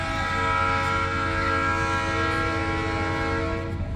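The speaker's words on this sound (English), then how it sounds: "This is the caboose train. 4 cabooses, 1 locomotive." A train of four cabooses pulled by one locomotive passes close by, its horn sounding one loud, steady, sustained blast over a low rolling rumble.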